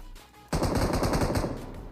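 Rapid automatic gunfire in the battle royale game BGMI, a loud sustained burst of shots rattling for over a second after a brief quiet lead-in.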